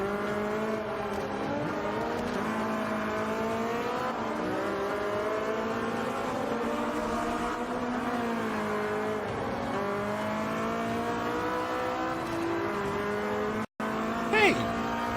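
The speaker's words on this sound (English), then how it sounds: "going through the tunnels for the first time and hearing the echo of the engines" Race car engines in the Forza Motorsport 5 video game drone steadily as they pass through a tunnel, the echoing whine rising and falling in pitch, loud and continuous, with a brief dropout near the end.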